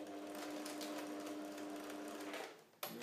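Sewing machine running a steady three-point zigzag lockstitch on a strap for a scale-model IMOCA sailboat's rigging, a continuous close mechanical hum that fades and stops near the end with a brief clatter.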